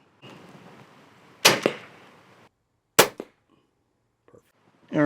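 TenPoint Siege 425 crossbow firing at a target 20 yards away: two sharp, loud snaps with quick decays, separated by quiet pauses, with faint low murmur early on and a brief voice at the end.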